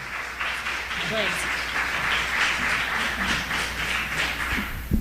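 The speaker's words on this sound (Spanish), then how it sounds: "Un fuerte aplauso para Nicola Yamine, a quien conozco y hemos compartido." Audience applause at a talk event, a steady wash of clapping with a brief voice in the background, moderately loud throughout.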